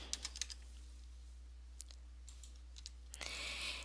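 Faint, scattered keystrokes on a computer keyboard come as a few light clicks in short clusters with long gaps, typing a date into Microsoft Word over a low steady hum.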